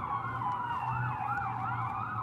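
An ambulance siren wails past in a steady rising-and-falling sweep, fairly close and loud, over a low rumble of road traffic, with no talking.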